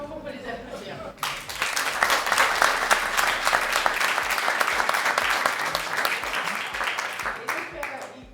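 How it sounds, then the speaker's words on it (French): An audience at an afterwork talk on AI and the future of work breaks into sustained applause after a brief murmur, the dense clapping steady and fairly close for most of the stretch. "Je crois qu'on peut les applaudir."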